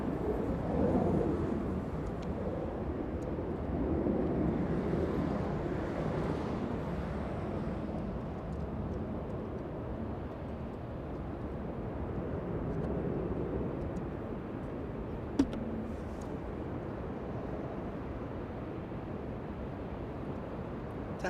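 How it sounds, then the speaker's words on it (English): Jet aircraft at Los Angeles International Airport, heard as a steady broad rumbling roar that holds across the whole stretch with a gentle swell midway and one brief click, no voices. "We only need the jet sounds."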